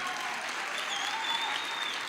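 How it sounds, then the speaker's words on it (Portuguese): Steady, dense applause from a live audience at a motivational talk, fairly loud and continuous throughout with no speech over it. "Uma salva de palmas para ela."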